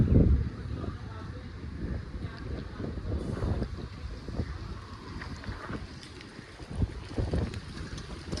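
Wind blows hard across an outdoor microphone, a loud rumbling buffet that swells and fades throughout, with faint voices under it.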